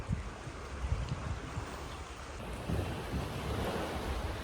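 Sea water and waves at Coral Cove in Malta, a continuous wash of surf and lapping water with heavy wind buffeting the microphone, no voices.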